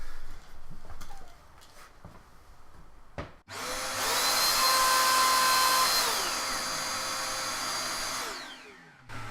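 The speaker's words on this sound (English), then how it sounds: "we're going to get the router template on and we're going to see if we can get this neck pocket cleaned up" Router cutting a guitar neck pocket with a template: after a few light knocks, the tool spins up to a loud, high whine, holds for about five seconds, then winds down.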